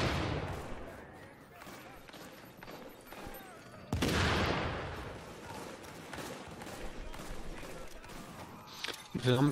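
A loud burst of explosions and gunfire in The Division, with a sharp bomb blast partway through, then scattered shots and rumbling effects continuing under a talking voice.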